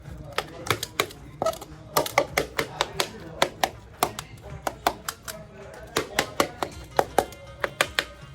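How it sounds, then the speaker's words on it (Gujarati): Roasted brinjal (eggplant) for Kathiyawadi bharthu being mashed with a spatula, giving a steady series of sharp, close tapping and squishing strikes in an irregular rhythm, with no talk over it. "હવે એને તાવેથાની મદદથી કચરી લઈશું."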